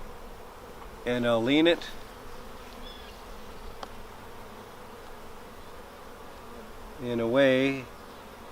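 Honey bees from an open beehive buzz as a steady low hum during a colony inspection, with a nearby bee whining past twice more loudly; a person speaks briefly over it.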